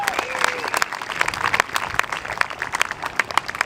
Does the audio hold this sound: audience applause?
yes